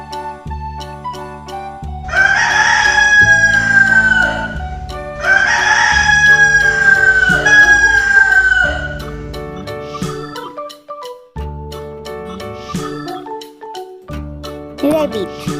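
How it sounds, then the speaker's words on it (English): A chicken lets out two loud, drawn-out rooster-style crows a few seconds apart, with brief clucks, all over a light jingling music track. "Hen. Hen means murga."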